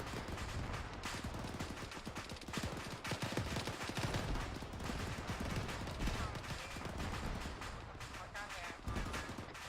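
Rapid gunfire during a military field exercise engaging a BMP-3, a loud, continuous crackle of overlapping shots and bursts with no pause.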